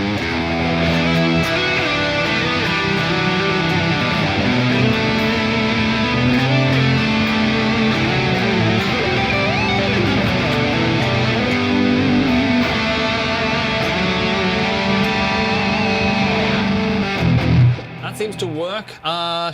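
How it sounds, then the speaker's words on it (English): A McRocklin Swoop electric guitar is played through distortion, sustained loud overdriven chords and lines ringing continuously before cutting off abruptly near the end, with no talk over them. "let's check out the tones and I'm gonna jump back on the McRocklin swoop"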